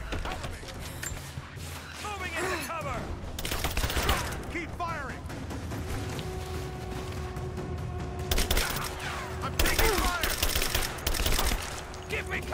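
Covering gunfire in Rise of the Tomb Raider: loud bursts of rapid automatic fire and single shots with metallic mechanism clicks, crowding together and swelling in the later part, while a voice talks over it.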